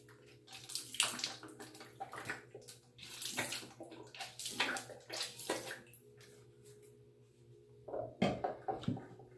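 Running water from a sink tap rinses a razor, with several bursts of splashing and gurgling stopping and starting close by, the longest burst near the end.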